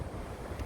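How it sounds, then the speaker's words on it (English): Strong gusting wind buffets a microphone beside a desert mountainside near a large wind farm, a steady low rumbling roar that fills the whole short moment with no voices. "Been battling this wind all morning."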